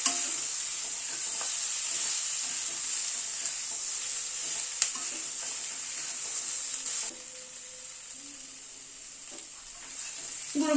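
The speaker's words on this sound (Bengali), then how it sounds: "গুঁড়ো মশলাগুলোকে দিয়ে আবার একটু নাড়াচাড়া করে নিচ্ছি" Roasted coriander powder and a little Kashmiri red chili frying in a pan, stirred for a spring onion chorchori: quiet, steady sizzling with soft scraping strokes of the spoon throughout.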